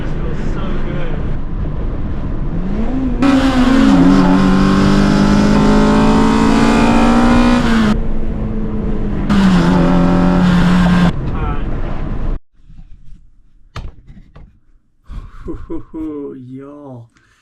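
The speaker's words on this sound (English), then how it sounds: "I absolutely love the way the car sounds now." A Matrix XRS with an INJEN cold air intake revs up loudly in two long bursts, its engine pitch rising and falling, with wind noise before it settles into a quieter, intermittent idle.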